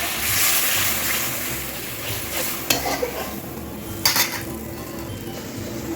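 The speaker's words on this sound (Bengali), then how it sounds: "এবার এর মধ্যে জল ঢেলে দেবো।" Water is poured into fried egg curry masala in a hot pan, raising a loud continuous hiss and sizzle with a couple of sharp clinks of a utensil against the pan, and no voices.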